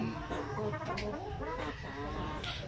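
Basilan and Zampen chickens cluck softly nearby in a short run of murmuring calls, with faint background noise.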